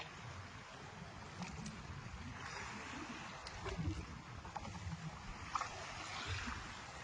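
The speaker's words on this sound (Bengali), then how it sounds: "নৌকো প্রচণ্ড দুলছে, কারণ" A fishing boat rocks on a river with a strong current, giving a steady low rush of water and faint creaks and knocks from the hull, quiet and continuous.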